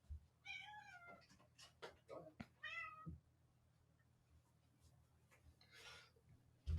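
A cat meows repeatedly at a closed door, wanting out of the room, its cries rising and falling in short bursts amid faint room noise and brief thumps.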